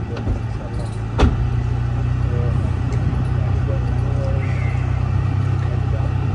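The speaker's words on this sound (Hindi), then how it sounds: "गाड़ी जा रही थी, गाड़ी देख रहा था।" Car on the move, heard as a steady low engine and road rumble that stays continuous and fairly loud from start to finish, with one brief sharp knock early on.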